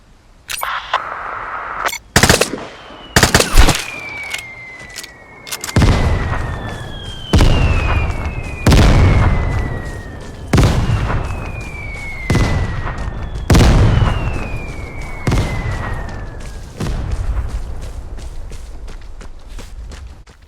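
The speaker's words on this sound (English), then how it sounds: "Waste of a mortar strike." Mortar strike explosions in the video game Vigor, heard as a string of loud, close booming blasts arriving every second or two, each fading into a long rumbling tail while whistling descending tones sweep between the impacts.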